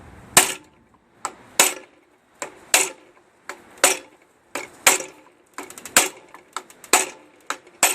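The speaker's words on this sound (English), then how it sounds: "I just grabbed a piece of wood blocking here, so I can give it a couple smacks inside here" Wooden block smacked repeatedly against heated aluminum angle to bend it, roughly a dozen sharp, close knocks spaced about half a second to a second apart, with no talk.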